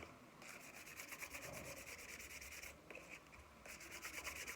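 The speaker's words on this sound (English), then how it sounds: "I'm going to use this 120 grit fine sandpaper to sand the surface down and give it a bit of a key" Fine 120-grit sandpaper rubs over a shiny painted surface in quick, steady back-and-forth strokes, a dry, raspy scratching that stays close and fairly quiet, with brief pauses between passes and no voices.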